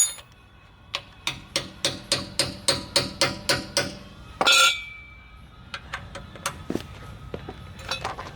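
Metal hammer blows on a punch driving off a swollen car lug nut, a steady series of about a dozen ringing clanks, then a louder scrape and a few scattered lighter metallic taps, nearby with no talking.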